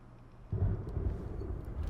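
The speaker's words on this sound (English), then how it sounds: "Oh shit, there's lightning." Thunder rumble from a lightning strike in the horror video game Call of Cthulhu, a sudden loud low boom that breaks in midway and rolls on heavily to the end.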